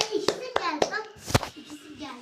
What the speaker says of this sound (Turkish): O yüzden alkışlıyorum.